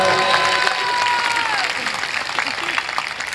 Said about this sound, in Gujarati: વધાવો તાળીઓથી વધાવો